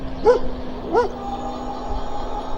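A dog gives two sharp, close barks about a second apart while chasing an electric bike, followed by steady ride noise.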